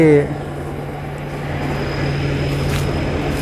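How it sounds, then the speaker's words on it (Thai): A Phet Charoen combine harvester runs while harvesting in a muddy rice field, its engine a steady, close, loud drone with a constant low hum. A voice is heard briefly at the start. "ฟังจากเสียงเครื่องยนต์แล้วนี่"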